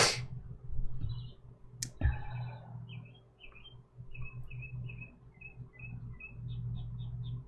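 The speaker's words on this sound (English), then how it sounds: "Can y'all hear the birds right outside the window?" Mockingbirds sing just outside a window, a string of short repeated chirps and whistled phrases at moderate distance over a low indoor hum, with a couple of sharp clicks near the start.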